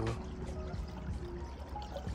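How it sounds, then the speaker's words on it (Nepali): Stream water flowing and babbling continuously nearby, a low rushing gurgle that stays steady for a couple of seconds. "कलकल बग्ने यसरी पानी"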